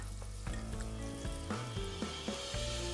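Scallion, ginger and garlic slices stir-fry in oil in a clay pot, giving a continuous soft sizzle broken by several clinking scrapes of a spatula against the pot. No one talks.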